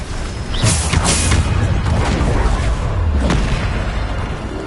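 Bombarda spell explosions in Hogwarts Legacy, heavy booming blasts with a sharp crash, the first loud burst followed by a second about two seconds later amid ongoing rumbling combat noise.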